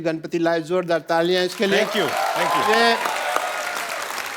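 A studio audience at a Hindi comedy talk show claps loudly, the applause building under a man's spoken thanks and then carrying on as a broad steady roar of clapping.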